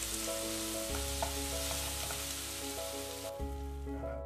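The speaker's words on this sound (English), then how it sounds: "Now we cook our tomatoes and this masala till the time the tomatoes don't go soft." Tomatoes and masala for dal fry sizzle and crackle steadily in a hot pan, with a constant close frying hiss and a low hum running underneath.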